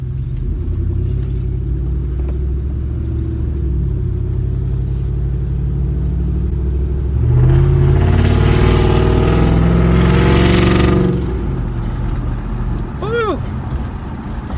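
A 2015 Ford F-150 5.0 V8 with its resonator and muffler deleted rumbles deep and loud close by, then surges into a rising rev before settling back to a heavy idle.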